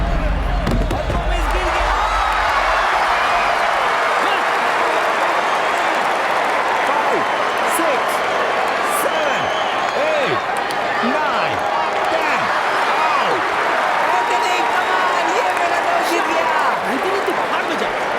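A crowd roars and applauds at a brutal fistfight, a dense, continuous wash of cheering and clapping that stays loud and steady, with a few sharp thuds at the start and occasional bright whistles on top.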